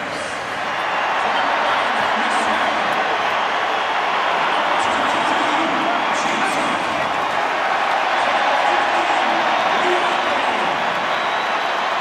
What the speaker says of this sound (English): Such applause. for the outgoing Adam Jones